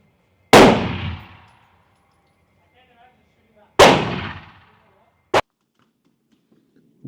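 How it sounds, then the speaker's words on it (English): Three sharp pistol shots from Sig P365 XL and FN Reflex XL handguns at a range, two loud booming reports with long decaying echoes spaced a few seconds apart, then a shorter, crisper shot. "you just got to see footage of me shooting roughly 20 rounds on the end of the video plus 5 on the front end"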